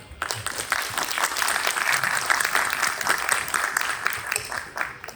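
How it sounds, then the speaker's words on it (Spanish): Audience at a book presentation at a book fair applauds steadily for about five seconds, a dense indoor clapping that swells and then tapers off, with no talk over it. "Por favor, aplausos."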